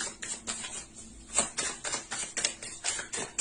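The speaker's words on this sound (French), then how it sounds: "Je vais rajouter des cartes pour voir." Playing cards laid one after another onto a card spread on a table, giving a quick series of crisp taps and soft slaps in an irregular rhythm, close and clear with no talk.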